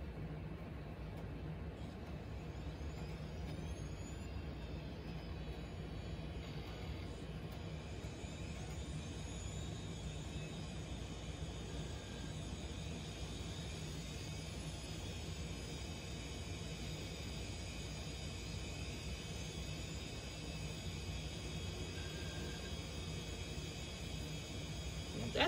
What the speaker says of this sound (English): It spun up all 4 drives one at a time there.